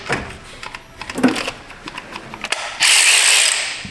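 An electric ratchet works a nut on a 2011 Toyota Sienna, lacking the power to pull it through: a run of sharp, uneven ratcheting clicks close by gives way to a loud, steady motor whir that holds to the end, with no talk.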